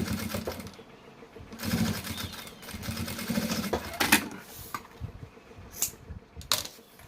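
A sewing machine stitching bias binding along the side of a bag, running in short bursts of rapid mechanical chatter separated by pauses and handling clicks, close up.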